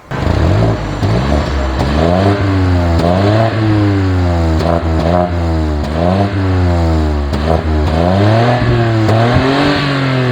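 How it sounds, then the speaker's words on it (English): A BMW 118i with a 1.5-litre engine revving in sport mode, heard from the rear as repeated throttle blips that rise and fall in pitch over a steady idle, loud and close with no talking. "put the car in sport, give it a little bit of a rev at the back so you can hear what this 1500 sounds like"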